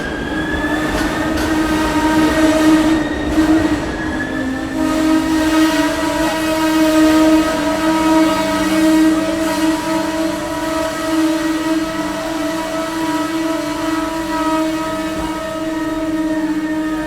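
A train at Kacheguda railway station sounds a long, loud horn with sustained steady tones over a rumbling platform din, continuing throughout with no speech.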